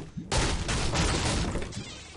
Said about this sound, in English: Yes, drum gun, let's go, guys.